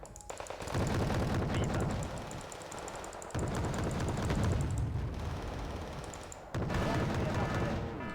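Tanks and units firing in the Wargame Red Dragon strategy game, a dense, continuous barrage of gunfire and explosions that swells and cuts in sections, with a voice talking over it.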